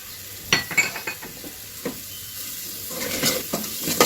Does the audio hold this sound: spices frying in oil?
yes